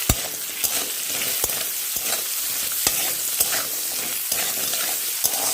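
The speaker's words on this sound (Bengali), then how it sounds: "তো আলুতে এবার দিয়ে দেবো আমি সামান্য লবণ আর সামান্য হলুদ দিয়ে আমি আলুটা ভেজে নেব।" Potato pieces fry in oil with a little salt and turmeric, a close, continuous sizzle punctuated by sharp clicks of a utensil scraping the pan at irregular intervals.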